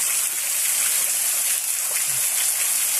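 Rushing waterfall at a state park pours in a steady, loud broadband roar that fills the scene without pause, with no clear talk over it.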